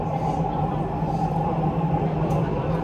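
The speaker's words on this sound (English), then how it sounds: "This train is bound for Lebak Bulus Grab." A Jakarta MRT train runs between Senayan and Lebak Bulus, heard from inside the car as a steady, loud rumble and hum that continues without a break.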